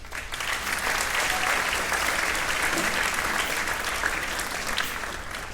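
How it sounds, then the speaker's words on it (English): Sustained applause from a school spring concert audience, steady and dense throughout, tapering slightly toward the end. "So give them all a round of applause."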